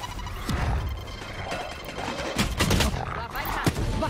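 Rapid gunfire bursts from the Valorant video game run through most of the clip, sharp cracks repeating over a dense battle mix while players talk.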